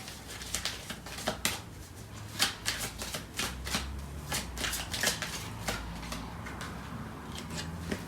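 Tarot cards are shuffled by hand close up, producing quick bursts of crisp flicking and riffling clicks in an uneven rhythm, with brief pauses between bursts and no talking.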